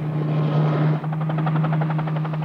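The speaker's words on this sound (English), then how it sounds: "Calypso's helicopter is dispatched." A ship-based helicopter from the research vessel Calypso drones loudly and close off the coast of Belize, its steady engine hum joined by a rapid rhythmic rotor chop in the second half.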